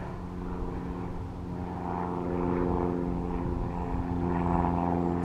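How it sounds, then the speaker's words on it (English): A propeller plane towing a glider passes overhead near Kincraig in the Scottish Highlands, its engine a steady droning hum that swells slightly louder as it approaches, heard from the ground with no talking. "there is a plane pulling up a glider"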